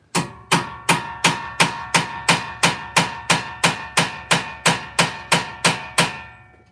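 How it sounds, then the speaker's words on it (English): A hammer repeatedly strikes a manual impact screwdriver to loosen a brake screw during a brake install, sixteen sharp metallic blows in a quick even rhythm, each ringing briefly, close and loud. "we did in fact need our impact screwdriver"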